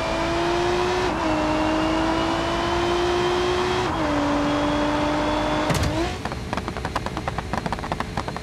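A Nissan 350Z engine in BeamNG Drive holds a loud, steady drone with pitch steps as it shifts gears, then revs up sharply near the end and breaks into rough crackling, close and without talk.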